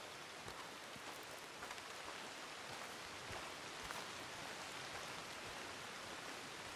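Steady rain pours in Red Dead Redemption 2, a dense hiss of drops with scattered sharper patters on surfaces, continuous and fairly quiet with no voices over it.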